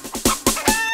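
Hen clucking in a children's song, loud and near, with four rhythmic clucks in a row and musical tones rising at the end.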